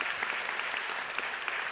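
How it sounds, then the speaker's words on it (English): Brief, steady burst of audience applause at a church canvass kickoff event, many hands clapping together at moderate loudness with no talking over it. "You can applaud for that."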